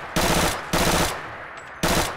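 PPSh-41 submachine gun in a Fallout 4 mod, firing in three loud, close bursts of rapid automatic fire, with short pauses between bursts.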